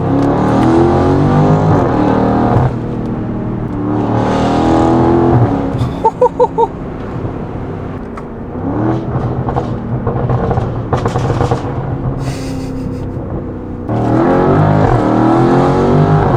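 A BMW G30 M550i with a full exhaust and free-flow downpipes revs hard in repeated loud bursts, rising and falling with crackles and pops between pulls, close and dominant.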